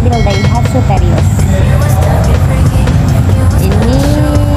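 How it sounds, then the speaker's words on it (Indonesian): A Daihatsu Terios pulls into a busy tire and wheel shop in Bekasi, its engine rumbling loud and steady with a rising tone near the end, while people talk nearby. "Hari yang cerah ini kita kedatangan mobil Daihatsu Terios."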